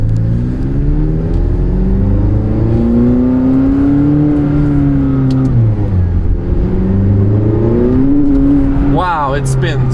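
A 2018 McLaren 570S Spider in sport mode revs hard under acceleration, its engine note climbing and falling through the gears, loud and close throughout, with an upward sweep near the end.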